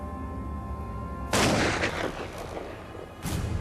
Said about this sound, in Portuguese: Os moradores suspeitos são convocados, enfileirados diante de uma parede e fuzilados.